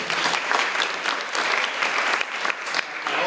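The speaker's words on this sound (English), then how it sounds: "Give yourself a round of applause." An audience at an honorees event gives a round of applause, loud, dense clapping with slight swells that continues throughout.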